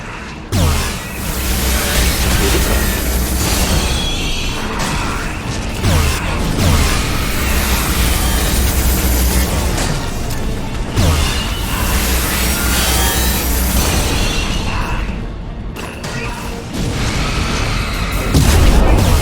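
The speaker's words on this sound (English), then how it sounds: "Firing anti-ship batteries at collector vessel." Anti-ship batteries in Mass Effect 2 fire at a Collector vessel with loud, heavy booms and bursts over a dense, rumbling mechanical din, repeating through the whole stretch.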